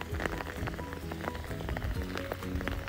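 Steady rain patters on a surface close by at Kreuzenstein Castle, Leobendorf, Austria, a dense wash of small drops with scattered sharper ticks, continuous throughout.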